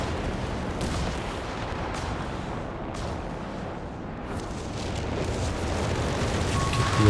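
Rocket barrage from a Walking Stuka in Company of Heroes 3 slamming into Sherman tanks: a dense, continuous rumble of overlapping explosions and booms, loud and sustained throughout with no talk.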